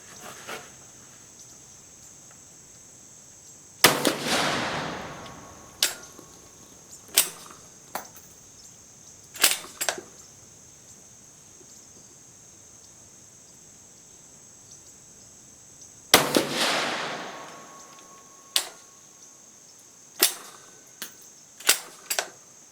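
A Swiss Vetterli rifle converted with a modified firing pin is test-fired outdoors at a 50 range: two loud shots with trailing echoes, each followed by a series of sharp metallic clicks from working the action, over quiet insect-filled ambience.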